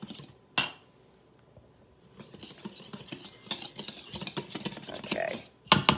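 Dry flour mixture for cinnamon roll dough stirred in a bowl, a soft scraping and swishing with a spoon tapping the rim, close and fairly quiet, growing busier toward the end.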